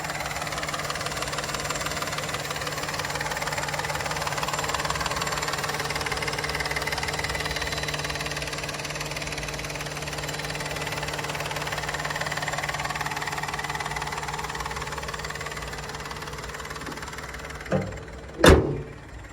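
A Peugeot 208 Style with a 1.2 petrol 82 hp engine idling, a steady close mechanical hum and rumble with slight knocking texture, ending with a short clunk.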